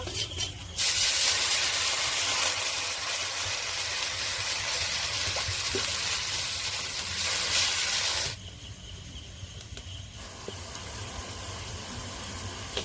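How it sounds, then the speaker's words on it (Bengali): A pot of fish curry broth seasoned with salt, turmeric and chilli powder, boiling on a village stove, a steady loud hissing bubbling rush that drops abruptly to a quieter simmer near the end, with no voices. "ঝোলটা ফুটে গেছে"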